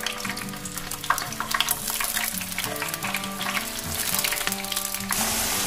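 Fish in seasoning of pepper and salt frying in hot oil in a pan, a dense steady sizzle with crackling pops, close and loud, under light background music.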